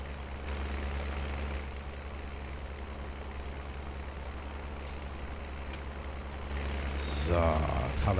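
A hay loader wagon in Farming Simulator 19 (Seasons) gives a steady, deep engine drone throughout that swells louder near the end.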